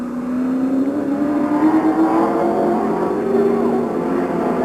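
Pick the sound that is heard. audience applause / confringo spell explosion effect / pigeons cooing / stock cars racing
stock cars racing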